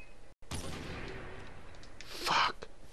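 A mine explodes in the video game Far Cry 4: a brief cut, then a rumbling blast with a brighter burst of debris and crackle near the end, moderately loud.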